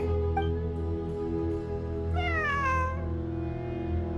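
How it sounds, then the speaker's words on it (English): A cat meows inside a video game, one clear rising-then-falling call standing out over a steady hum of game music and ambience, with a fainter chirp just before it. "A cat?"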